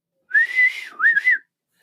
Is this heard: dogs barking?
no